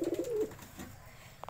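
A pigeon gives a low, soft coo in the first half second, then falls quiet, with a faint rustle near the end.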